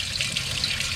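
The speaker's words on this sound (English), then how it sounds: "it's going to drain about half of what's in the radiator now" Coolant drains out of the radiator of a Caterpillar D3B bulldozer, a steady close trickle of liquid splashing without pause for about a second.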